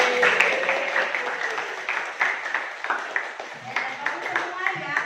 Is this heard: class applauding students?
yes